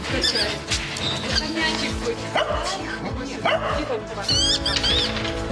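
A specially trained therapy dog barks a few times at a rehabilitation session for a wounded soldier, the yips mixed with nearby voices and room noise.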